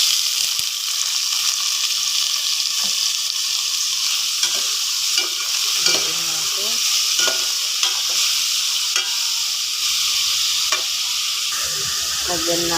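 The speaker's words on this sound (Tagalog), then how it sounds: "Naggisa ako ng bawang at sibuyas. Tapos, ilagay natin yung karne." Meat sautéing in a pan with garlic and onion makes a loud, continuous, hissing sizzle, punctuated by repeated stirring scrapes and clinks over nearly thirteen seconds, with no speech.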